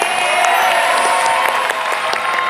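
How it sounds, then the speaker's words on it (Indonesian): A studio audience on the Family 100 television game show claps and cheers loudly for both teams, a dense wash of crowd noise with sustained musical tones running through it. "Tepuk tangan dong untuk kedua tim."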